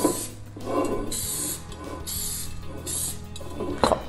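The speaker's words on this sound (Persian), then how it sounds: "من از اسپری آلبیک برای چرب کردن قالب استفاده میکنم، تکونش میدم و داخل قالب رو کاملاً با اسپری پوشش میدم" Albik cooking spray greasing a cake pan, a series of close hissing bursts in steady pulses with brief pauses between them, ending with a sharp clatter.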